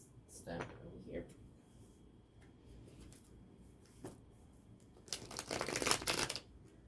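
Playing cards are shuffled for a reading in short bursts: a couple of quick riffles near the start, a faint snap midway, then a longer, louder shuffle toward the end in a quiet room.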